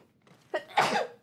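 A single sneeze from a person, a soft intake breath followed by a sharp, loud burst that trails off over about a second, heard close and alone with no talking.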